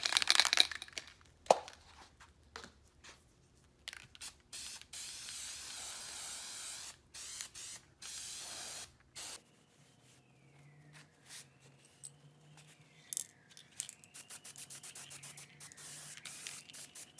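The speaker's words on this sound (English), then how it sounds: "spray glue available at most fabric shops." Spray glue from an aerosol can hisses onto seat foam for a Volkswagen Vanagon seat, in repeated sharp bursts of a few seconds each, close and loud, broken by brief pauses and quieter handling noises.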